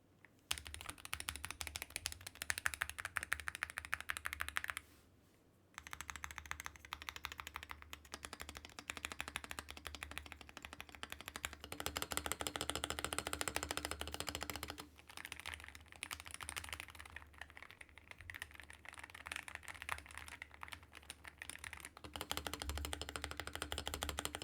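Continuous fast typing on an ACO magnetic switch keyboard with foam inside, a dense, steady clatter of deep, poppy keystrokes heard close up with only brief pauses.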